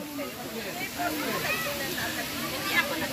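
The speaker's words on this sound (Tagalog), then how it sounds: "Itong tubig na to, yun yung bumabagsak dun sa aming kinainan kanina." Water from a waterfall pouring down, a dense continuous rushing roar that stays steady and fairly close throughout.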